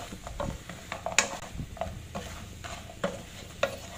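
A spatula scrapes and stirs chicken and potatoes in a pan, with soft clinks and sizzling under irregular scraping strokes.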